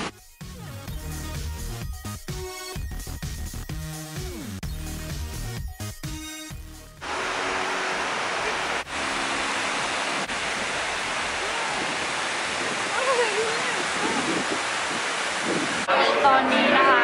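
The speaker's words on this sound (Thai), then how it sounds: "นี่เราก็มาถึงแล้วนะคะ Buckingham Fountain นะคะหรือว่าน้ำพุ Buckingham นั่นเอง" Buckingham Fountain in Chicago pours and splashes as a steady, loud, broad rush of water that fills the second half, after a stretch of music and talk that ends abruptly.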